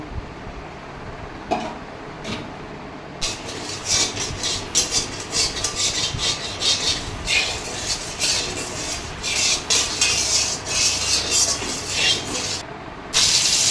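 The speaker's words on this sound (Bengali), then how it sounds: "এবার আলুগুলো ভেজে নেব" Potatoes fry in hot oil in a kadai wok, a loud close hissing crackle that swells in uneven bursts after a quieter start, with occasional rasping scrapes and no voices.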